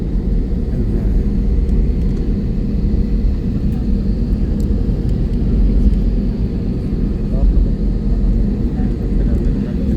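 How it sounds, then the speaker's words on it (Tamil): An airplane taxiing along a runway gives a steady, loud low rumble and engine whir that holds for the whole stretch, heard from nearby without letup. "மூவிங்கில் இருக்குது அங்கே ஒரு ஃப்ளைட் இருக்குது"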